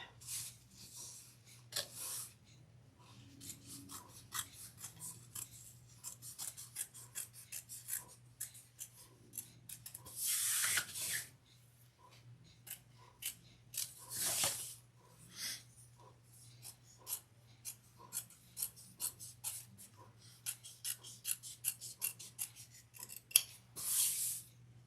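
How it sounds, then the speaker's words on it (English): Duck-bill scissors snip through leather and vinyl for a crossbody bag: a close, steady run of short crisp cuts and rustling, with a few louder bursts of handling along the way. "Use my duck scissors."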